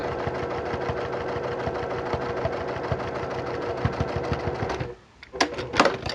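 A sewing machine stitches a two-fabric face mask with lining, a close, steady rapid clatter running for about five seconds before stopping, followed by a few sharp handling clicks.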